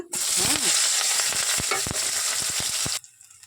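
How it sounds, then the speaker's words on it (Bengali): Onions hit hot oil after fish frying with a loud, steady sizzle, broken by scraping and stirring clatter, then cutting off abruptly near the end. "এবার আমি পেঁয়াজটা দিয়ে দেবো তেলের উপরে"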